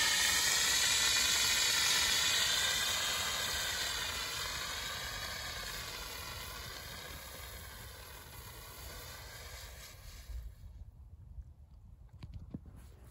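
A recalled 2.5 pound Kidde fire extinguisher discharges with a loud, steady hissing blast at close range that slowly weakens over about ten seconds and then sputters out, with no talking.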